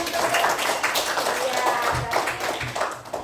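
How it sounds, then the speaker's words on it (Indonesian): A classroom of students claps hands together in praise of a classmate's answer during a lesson, a short burst of brisk clapping mixed with a voice talking over it. "Bagus, kasih tepuk tangan"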